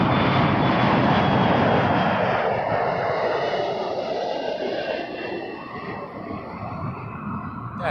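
Jet engines roar loudly at Toronto Pearson Airport, a broad close rush that slowly eases in strength over several seconds, with no voices on top.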